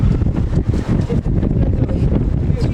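Wind rushes and buffets a microphone in steady gusts on a beach in Spain, a low rumbling roar close up, with no talking.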